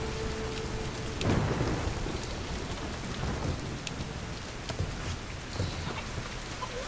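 Steady heavy rain pours through a stormy scene in Tomb Raider Definitive Edition, with a nearby thunder crack early on and fainter rumbles later, and no voices.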